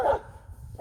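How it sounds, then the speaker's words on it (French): Dogs barking nearby, two sharp barks separated by a short quiet gap, fairly loud and close. "vous l'avez des chiens"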